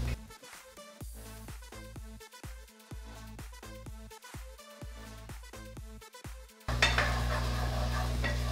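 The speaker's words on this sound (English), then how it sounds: "I'll add the garlic and cook for another minute" Minced garlic goes into a pan for vegan jambalaya, with a run of quick metallic stirring scrapes and clinks, then a louder steady sizzle as it starts to cook.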